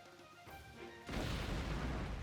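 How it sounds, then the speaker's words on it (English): A game explosion in Outward, sudden and loud, booming in after a second of quieter ambience and rumbling on with a broad, sustained roar to the end. "The sound of an explosion rocks the air and makes the ground tremble beneath your feet."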